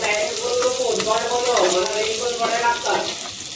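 Onions frying in a pan until reddish-brown for pulao rice make a constant close hiss and sizzle, heard under a voice talking throughout.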